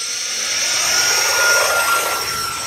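Twin 40mm electric ducted fans on an E-flite F-14 Tomcat RC jet at full throttle make a steady, loud high-pitched whine with a constant tonal edge, swelling slightly mid-way and holding without a break.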